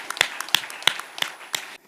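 A church congregation clapping in a steady beat, five sharp claps spaced evenly across a short stretch with no voices in between, ending abruptly.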